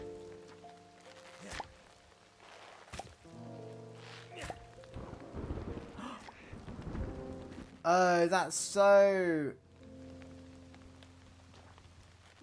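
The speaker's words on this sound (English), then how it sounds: "so nice, the thunder and lightning." Steady rainfall in the farming video game Fae Farm, with thunder during a storm. The rain patters continuously under a person talking, and brief louder bursts stand out near the end.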